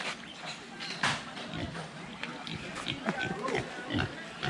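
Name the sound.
little pigs grunting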